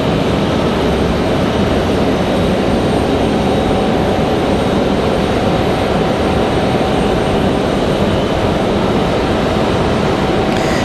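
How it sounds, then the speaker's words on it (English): A Copa jet airliner departing from Raleigh-Durham airport, a loud, steady, broadband engine roar that fills the whole stretch without letup, with no voices. "Copa's up next. Ready for departure."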